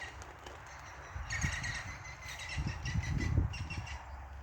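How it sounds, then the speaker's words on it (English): A pair of green woodpeckers calling at a distance, faint repeated bursts of sharp laughing notes over low outdoor background noise and occasional rumbles. "That's actually a pair of green woodpeckers."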